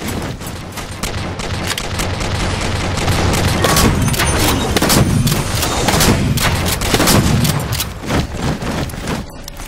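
Shotgun fire in the shooter Halo 4, a run of loud, close, booming blasts amid dense battle noise with little talk.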